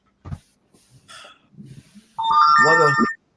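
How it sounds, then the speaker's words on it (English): A phone chimes with a bright, multi-tone notification for an incoming text, loud and close for about a second near the end, after scattered speech and small noises. "I just got a text."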